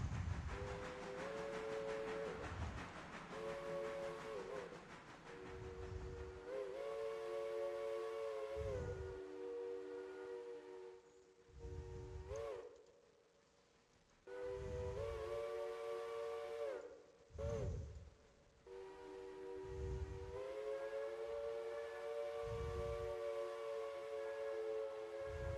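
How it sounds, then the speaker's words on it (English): Steam locomotive whistles in the railroad game Railroader, blown in repeated long multi-tone blasts with a built-in echo, loud and close, with low chuffing pulses between them and no talking. "feels like some of these whistles have like an echo kind of built in."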